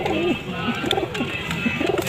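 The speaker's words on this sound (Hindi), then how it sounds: "ये भी टोलियों में उड़ने वाला निहायत खूबसूरत कबूतर है, नर है।" A male flock-flying pigeon coos close by in soft, repeated throaty rolls, steady and unhurried, with faint background noise underneath.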